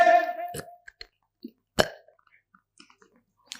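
A person burps loudly on command in a healing session, with several short, abrupt bursts spaced apart in a quiet room and a voice speaking at the start.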